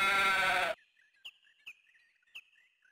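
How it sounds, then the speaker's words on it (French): Sheep bleating in the Suikoden II video game: a loud burst of game music or noise cuts off, then four short, high, evenly spaced bleats ring out over a faint steady tone. "Voilà, il y a trois moutons."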